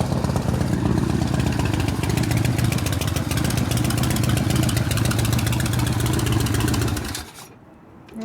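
Harley shovelhead big-bore stroker motorcycle engine idling close by, a loud steady lumpy rumble that drops away abruptly near the end.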